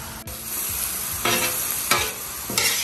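Philly cheesesteak meat for a Cajun-style sandwich sizzles steadily as it renders on a hot griddle, with three louder scraping stirs breaking through the constant frying hiss, close and alone.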